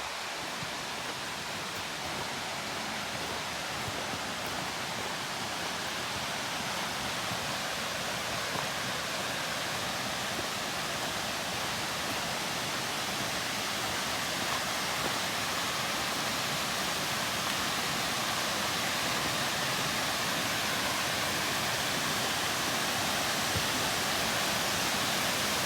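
Long Creek Falls, a waterfall just off the Appalachian Trail, pours in a steady, dense roar that holds unbroken and close for the whole stretch, with no other sounds rising above it.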